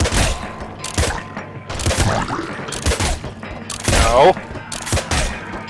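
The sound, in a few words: gunfire in the video game Nuclear Throne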